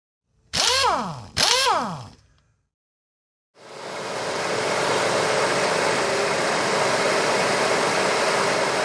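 A 1995 Ford F-150 engine idles steadily with a broad, continuous rumble, following two short rising-and-falling bursts at the start and a brief silent gap. The random misfire is not clearly distinct within the even idle.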